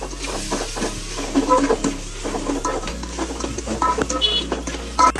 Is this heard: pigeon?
no